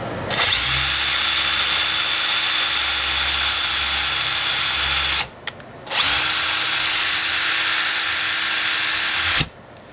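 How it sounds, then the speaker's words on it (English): A power drill whirs steadily into wood in two long bursts, drilling a pilot hole, with a short pause between them, close and loud, with no talking. "now he's going to go ahead and drill this other pilot hole"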